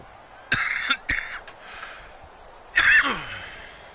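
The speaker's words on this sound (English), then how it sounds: "Coughing." A person coughs during football video game commentary: a few short, fairly quiet coughs, two close together and then one more after a pause, with no talking.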